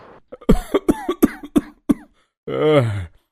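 A rapid string of dry coughs sounds up close, followed after a short pause by a longer, strained throaty cough.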